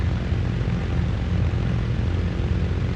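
Steady, loud propeller aircraft engine drone in Microsoft Flight Simulator 2024, a dense continuous roar with no talking over it.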